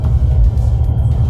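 A Toyota Supra at an outdoor car show gives off a loud, steady, deep engine rumble throughout.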